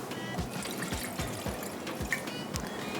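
Water pours into a cooking pan for boiling chicken in a kitchen, a steady splashing trickle with soft repeated low thuds throughout and no talk.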